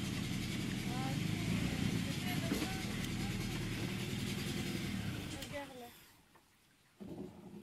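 Boat motor running at a steady low drone on a river in the Bolivian pampa, with voices over it, then cutting out and falling quiet near the end before a brief noise returns.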